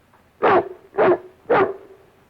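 Three loud, evenly spaced barks from a dog, each short and gruff with brief quiet gaps between them, heard up close in an old comedy film scene.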